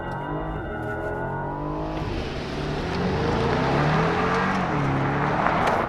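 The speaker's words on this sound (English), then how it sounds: "2021 Mercedes Maybach GLS600 with no launch control." 2021 Mercedes-Maybach GLS600 SUV accelerating without launch control, a steady engine drone that climbs in pitch, then swells into a louder rising roar with rushing noise as it picks up speed.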